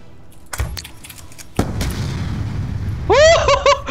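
Explosion in the shooter game Black Ops 2: a sudden loud blast with a rumbling tail, followed by rapid chiming metallic game effects, with no talk.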